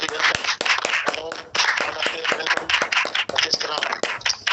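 Crowd clapping and applause welcoming an invited speaker at a training event, dense and continuous with brief dips, mixed with some voices.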